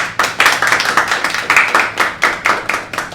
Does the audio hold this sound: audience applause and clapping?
yes